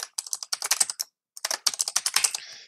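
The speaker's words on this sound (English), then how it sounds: "We're going to type a new password." A new password typed on a computer keyboard in two quick close bursts of keystrokes split by a short pause, crisp and clear with no voice.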